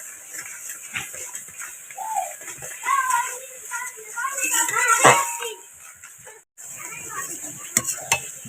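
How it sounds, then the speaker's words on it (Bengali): Spice masala fries in oil for Bengali tel koi fish curry, stirred with scrapes and clinks against the pan over a low sizzle, while a voice talks over most of it. "যতক্ষণ না মশলাটা কষানো হচ্ছে এভাবে নাড়তে থাকবো"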